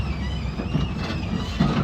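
Daytona Speedway tour tram rolling along, a steady low rumble with faint rhythmic clatter like rail-car wheels, close and continuous with no talking.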